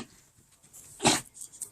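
Smurf the dog lets out a single quick, close sneeze amid soft sniffing and snuffling, after a session of digging through toys.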